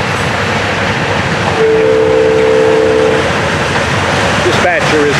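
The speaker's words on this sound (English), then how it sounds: "Out behind them, it is a spray train." A spray train on a main line rumbles loudly and continuously, with a sustained horn blast midway and a few brief whistle-like chirps near the end.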